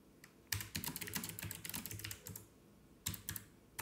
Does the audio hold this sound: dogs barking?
no